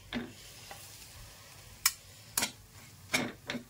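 Peanut powder and turmeric are stirred into a cumin tempering in a hot pan, giving faint, soft frying sizzle. A few sharper scraping strokes of the spoon stand out at irregular intervals.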